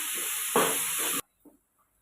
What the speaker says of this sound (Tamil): இது கொஞ்சம் வதங்குறதுக்கு வந்து நம்ம உப்பு சேர்த்துக்கலாம் கொஞ்சம் நல்லா வதக்கிடுங்க